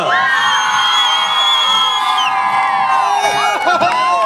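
A crowd of school pupils at an outdoor border festival cheers, whoops and shouts together in a loud, continuous roar, with high yells rising over the mass of voices.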